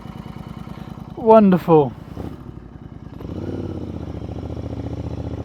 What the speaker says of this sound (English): now I'm going to try and pull away, holding this gear stick down